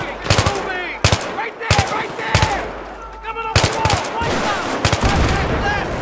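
Close, loud bursts of automatic gunfire in the Battlefield 3 campaign, rapid clustered shots repeating every second or so over a busy battle background with distant shots and effects.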